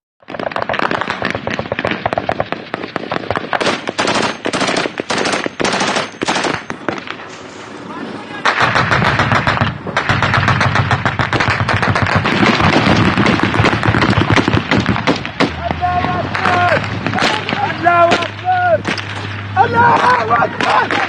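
Replayed footage of a militant attack on a Nigerian Army position in Mairari, Borno State, full of sharp gunfire cracks: scattered single shots, then dense rapid bursts that grow louder and busier. Shouting voices rise over the later shooting.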